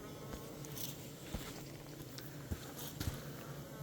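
Honeybees at a hive entrance give a faint, steady buzzing hum with small scattered taps and clicks close by, no talk.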